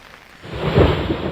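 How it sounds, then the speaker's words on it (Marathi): Heavy monsoon rain pours down with a low rumble swelling partway through, a dense, continuous wash of sound up close. "सतत या भागामध्ये जोरदार पाऊस कोसळतोय"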